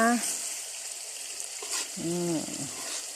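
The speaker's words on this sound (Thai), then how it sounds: "เจียวให้เหลืองนะคะ หัวหอมหนึ่งกิโลกรัม เจียวให้เหลืองเลยนะ" A kilogram of shallots fries in oil until golden, a steady, moderately close crackling sizzle that runs throughout, with a voice briefly heard at the start and again midway.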